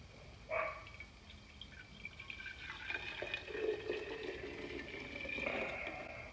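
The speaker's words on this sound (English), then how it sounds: "I pour that mixture into my jar." An essential oil emulsion mixture pours and splashes into a jar in a steady trickle, with a soft clink at the start, close by and fairly quiet.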